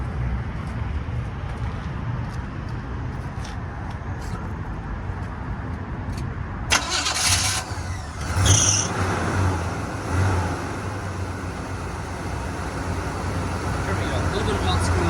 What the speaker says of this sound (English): I'm going to fire it up.